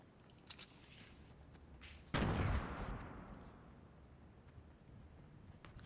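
A grenade explodes in Fortnite Battle Royale, one sudden loud boom with a decaying rumble that fades over a few seconds against quiet game ambience.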